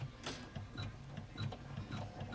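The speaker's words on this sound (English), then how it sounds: "I'm going to run my placement stitch before I forget again." A Janome 500e embroidery machine stitching a placement line in hooped fabric with stabilizer and white thread, giving a quiet, rapid mechanical ticking and whirring with regular rhythmic pulses.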